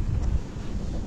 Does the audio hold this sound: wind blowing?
yes